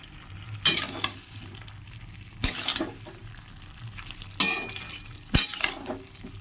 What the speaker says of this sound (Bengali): এবার একটু ভালো করে মিশিয়ে নেব